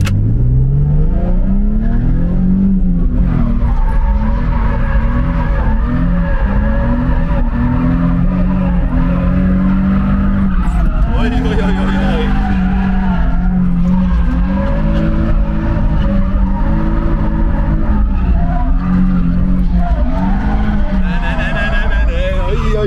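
A BMW E46 drifting with tires skidding at an event in Hradec, the engine droning and rising in pitch while the tires squeal. Loud and continuous, with voices talking over it.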